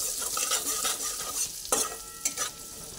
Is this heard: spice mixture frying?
yes